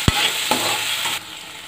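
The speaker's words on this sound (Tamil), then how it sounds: "வெங்காயம் நல்லா வதங்கட்டும்." Onions sautéing in a pan for carrot kuzhi paniyaram, a steady close sizzle with a few sharp stirring scrapes near the start, then a slightly quieter sizzle continuing alone.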